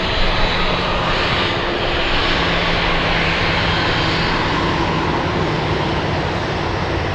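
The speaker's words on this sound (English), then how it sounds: "arrival will be an Alaska Airlines 737 MAX 9 flying in from Minneapolis" An Alaska Airlines Boeing 737 MAX 9 arriving at Anchorage roars loudly and close by, a dense, sustained engine rush that holds steady for the whole stretch.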